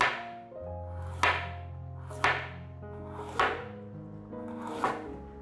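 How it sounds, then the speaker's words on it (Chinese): A knife chops peeled carrot into small pieces on a board, four sharp evenly spaced thwacks that ring out close and clear with no talk. "把红萝卜切块，等一下要用搅碎机打成泥，所以先切小块点。"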